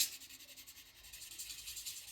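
Very fine 7000-grit sandpaper rubs across a metal surface in quick, soft back-and-forth strokes, a faint, steady hissing scratch with no voices.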